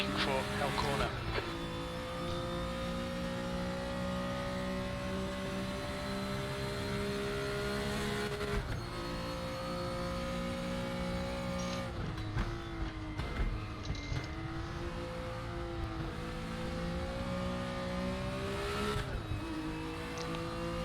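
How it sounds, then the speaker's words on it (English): BMW M1 Procar racing at Bathurst in Raceroom, its engine note droning steadily and loud throughout with shifting pitch through gear changes, a voice talking over it much of the time. "You're locking your left front, braking for Hell Corner."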